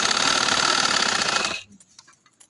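An electric sewing machine runs a fast continuous stitching whir along a Patiala salwar seam for about a second and a half, then stops abruptly, leaving faint handling clicks close by.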